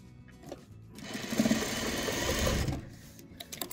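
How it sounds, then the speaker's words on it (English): A sewing machine runs steadily for a couple of seconds, stitching quilt pieces together with a rapid, even whirring rattle that starts and stops cleanly, close and clear with no talking. "So let's sew these together first."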